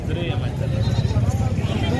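Goats at a cheap livestock market bleat among a busy crowd, with the animal calls close and mixed under continuous voices.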